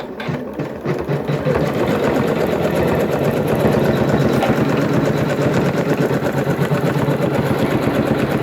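A Janome Skyline S9 embroidery machine stitches a trapunto quilt design, giving off a loud, steady, rapid mechanical whirr that runs unbroken throughout.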